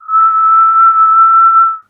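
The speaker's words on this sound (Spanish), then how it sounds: "El silbido se repetía." Eerie whistling: a single pure, steady whistled note held for nearly two seconds, loud and close, with nothing else around it.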